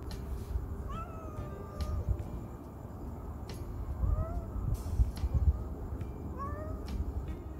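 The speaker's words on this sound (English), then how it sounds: "I noticed a unique meowing coming from the big tree in the front of the property that I didn't recognize." A cat stuck high in a big tree in front of a property meows repeatedly, several rising, plaintive calls spaced a second or two apart over quiet outdoor background.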